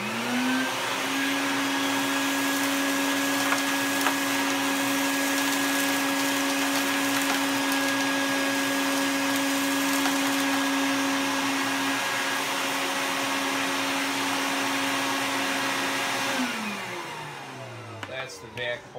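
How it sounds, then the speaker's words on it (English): A Bucket Head shop vac motor mounted on a 5-gallon bucket runs with a steady, loud whine and a constant pitch for about sixteen seconds, then spins down and cuts off near the end. "instead of having to lug a big shop vac for a small cleanup, you got it right here"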